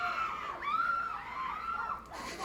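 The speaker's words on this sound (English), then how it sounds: "They're screaming like animals." Several people shriek and scream continuously in a viral clip, their voices wavering and rising over a noisy background for a couple of seconds.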